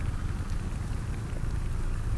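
Heavy rain falling steadily, a dense continuous hiss and patter on surfaces, close and constant with no talk.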